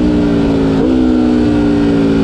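A 2019 Aprilia RSV4 1100 Factory, a 217 hp sport motorcycle, pulls hard under acceleration to overtake on a track. Its loud, steady engine note shifts pitch once partway through, with no talk.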